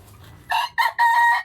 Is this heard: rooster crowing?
yes